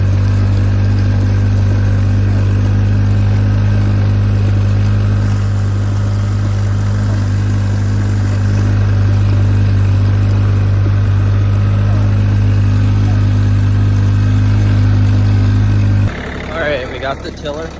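Farm tractor engine running on a corn and soybean farm, a loud, steady mid-pitched idle hum that continues under talk for about sixteen seconds before cutting off abruptly.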